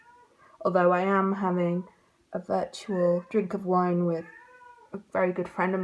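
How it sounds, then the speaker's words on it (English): A pet cat named Coco meows several times indoors, wanting to be let into an upstairs room. The drawn-out, tonal cries alternate with someone talking nearby. "You can hear meowing in the background."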